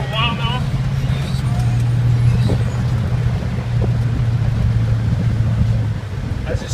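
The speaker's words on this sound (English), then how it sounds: "This one has dual exhaust and it sounds really nice." A 2007 Chevy Silverado 1500 LTZ crew cab 4x4 with a 5.3 V8 and dual exhaust drives along, its steady low engine hum and road noise running beneath a voice from inside the cab.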